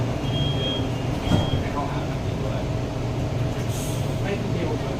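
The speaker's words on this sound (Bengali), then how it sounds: "ট্রেনটা এবার ছাড়ে।" A driverless metro skytrain pulls away from the platform with a steady rumbling hum and a brief high tone, loud and close, with voices nearby.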